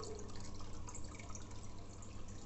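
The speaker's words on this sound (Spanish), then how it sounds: "Pero ahora ya con el funcionamiento del filtro de cascada. Filtra 1200 litros de agua por hora." An aquarium cascade filter rated at 1200 litres per hour runs steadily, water trickling and splashing softly under a low hum, quiet and unbroken, with no one speaking.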